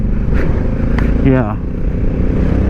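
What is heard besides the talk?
Honda Africa Twin DCT motorcycle being ridden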